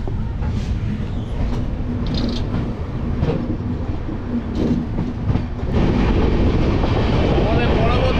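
The 12883 Rupasi Bangla Superfast Express rolls along steadily with a continuous, loud rumble and rhythmic wheel clatter, heard from inside a second-sitting passenger coach, growing louder near the end.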